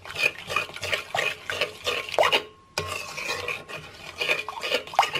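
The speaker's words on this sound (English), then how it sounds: "just mix all of the chocolate in" Melted chocolate being stirred into orange-infused cream, wet sloshing scrapes of a utensil against a bowl repeating in steady strokes up close, with one brief pause midway.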